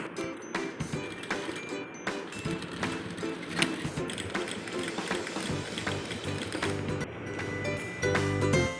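A sewing machine running slowly as it stitches a thick section of a shopping bag, with a rapid mechanical clatter of needle strokes carrying on at close range, briefly interrupted, then picking up again.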